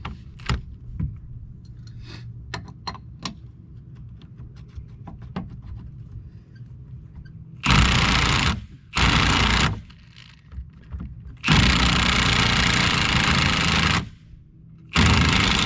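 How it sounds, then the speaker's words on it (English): A Milwaukee impact driver fires in several loud, hammering bursts of a second or two each, separated by pauses, close to the listener after a stretch of quiet handling noise. "Let's go ahead, put the old impact on it real quick. Be careful running these Milwaukee impacts"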